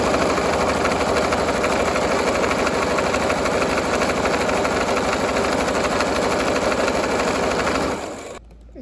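Sewing machine stitching the pocket of shorts, a loud, close, steady mechanical whir running continuously for about eight seconds before it stops.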